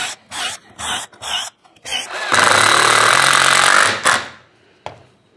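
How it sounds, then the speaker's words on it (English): A power drill makes several short bursts, then a sustained loud whir as it pre-drills screw holes in a wooden part. The sound stops abruptly, and a single faint knock follows. "I'm going to pre-drill all the screw positions on this."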